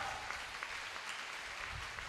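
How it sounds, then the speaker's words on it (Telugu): Church congregation clapping loudly, a steady, even wash of applause heard from some distance at low level with no voices over it. "గట్టిగా చప్పట్లు కొట్టండి, గట్టిగా కొట్టాలి"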